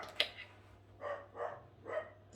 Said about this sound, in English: My dog is going batshit at nothing in the background